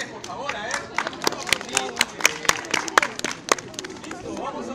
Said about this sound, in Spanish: Un aplauso para ustedes, por favor.